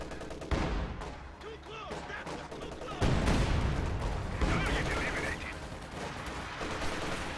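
Machine gun fire in a WWII strategy game, with bursts of gunfire and distant explosions layered through a dense battle soundscape, loud blasts around three and four and a half seconds.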